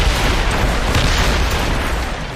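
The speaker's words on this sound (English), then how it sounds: "They're firing mortars!" Mortar fire in Assassin's Creed Rogue, a loud, sustained roar of blasts and rumble spread across the whole moment, with no speech over it.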